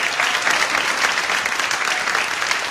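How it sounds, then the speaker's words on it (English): A state fair audience at the Minnesota State Fair gives steady applause, a dense wash of hand claps that holds at an even level without pause. "Let's hear it for our good friend Jodi Livon"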